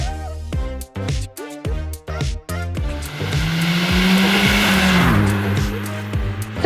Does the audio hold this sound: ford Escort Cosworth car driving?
yes